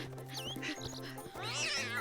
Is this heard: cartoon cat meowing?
yes